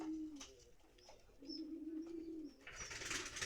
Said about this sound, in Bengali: সবগুলো কবুতরকে ভুট্টা খাওয়ালাম আজকে।